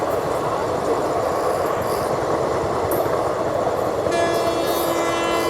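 The Azad Hind Express rumbles past close by at a crossing on the outer line near Champa, its wheels and coaches roaring steadily, with a higher metallic ringing tone joining near the end.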